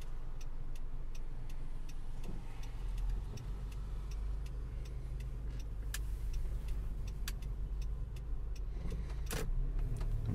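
A car driving slowly through traffic on the way out of town in Sherbrooke, heard from inside as a low steady engine and road rumble with faint ticking clicks and an occasional sharper knock.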